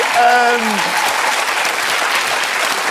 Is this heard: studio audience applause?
yes